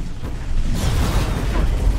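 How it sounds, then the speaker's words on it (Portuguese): A ship blows up in the Starsector space combat game with a deep, rumbling boom that swells after a brief lead-in and keeps roaring at full loudness to the end, with no talking. "A explosão dela detonou o amiguinho ali do lado"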